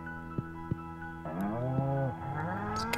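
A cow from the Stardew Valley video game lets out a single long, clear moo, preceded by a couple of short game clicks.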